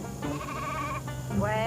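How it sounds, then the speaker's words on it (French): Sheep bleat in a short burst, two or three wavering calls close by, with a voice speaking over them. "Avec des moutons."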